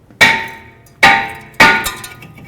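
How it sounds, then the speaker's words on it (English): Three loud metallic hammer strikes between the lug studs of a stuck front brake rotor on a 2010-2017 Chevrolet Equinox, evenly spaced, each ringing briefly before the next blow. "I'm going to try to tap it off of here, hit in between the lug studs to remove it"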